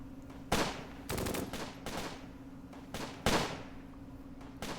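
Bursts of gunfire in the World War II strategy game Close Combat Gateway to Caen, several sharp broadband volleys and single shots spaced irregularly over a steady low background hum, fairly close and loud.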